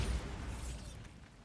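A Bombarda spell explosion from Hogwarts Legacy: a loud, dense burst with heavy low rumble that stays full through the first second, then thins and fades.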